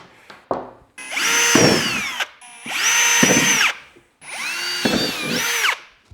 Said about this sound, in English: So I'm going to drill 4 holes in the lid, which are each 4mm